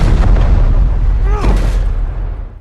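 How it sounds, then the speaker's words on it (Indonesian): A time bomb explodes in an action film, a loud, deep rumbling blast with a rolling low-end roar and scattered debris crackle that slowly tails off. "Dr. Sin mencoba menipu David dengan menukar Arthur Junior dengan bom waktu hingga terjadi"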